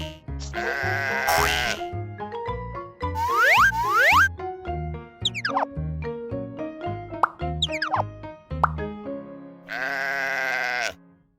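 Cartoon farm sheep bleats in a high-contrast baby animation, several wavering cries set among bouncy plops, boings and musical tones, loud and close with no talking over them.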